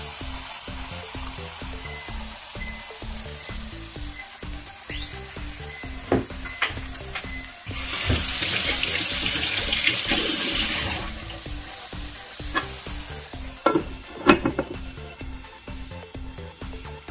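Eggs fry on a 1500W portable electric hot plate, a steady close sizzle running throughout, swelling louder midway with a brief hiss, then scattered pops and clicks toward the end.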